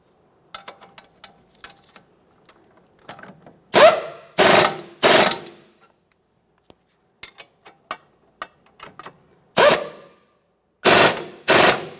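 Hand ratchet snugging up the steering knuckle bolts on a 2014-2019 Toyota Corolla, heard as several bursts of fast clicking separated by pauses, with light tool taps in between and no talk.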